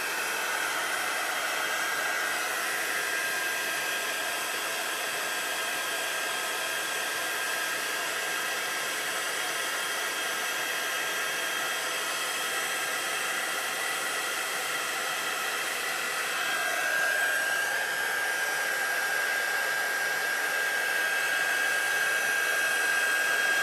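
Heat embossing tool blowing hot air as it warms up for embossing powder, a steady loud whirring hiss with a constant tone that runs unbroken throughout.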